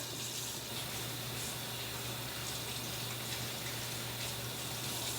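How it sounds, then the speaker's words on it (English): Running tap water pours steadily into a sink while a kitchen strainer is rinsed beneath it, a continuous close, even gushing hiss with no talking. "I have to wash this off because I don't wash anything"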